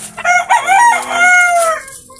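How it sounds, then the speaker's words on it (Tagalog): A junglefowl rooster crows close by in one loud, drawn-out cock-a-doodle-doo with rising and falling notes, alone and clear. "talagang gumigiri na yung ating manok labuyo"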